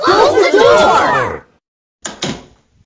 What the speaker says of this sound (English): Hey, can you close the door for me?